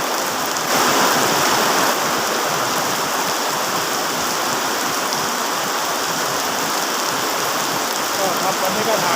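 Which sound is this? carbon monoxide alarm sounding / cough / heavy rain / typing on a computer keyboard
heavy rain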